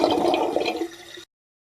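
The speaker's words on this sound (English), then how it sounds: "Sound 1 was the gurgling of water into a drain." Water gurgling and rushing down a drain for about a second, loud and close, fading slightly before stopping abruptly.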